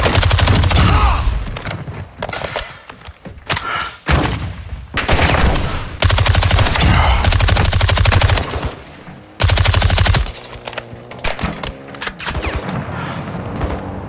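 Machine gun fire in Call of Duty DMZ comes in loud, rapid bursts of sharp shots, repeated many times with short gaps and some echoing tail between volleys, with no talk.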